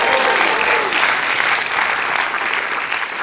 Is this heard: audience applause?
yes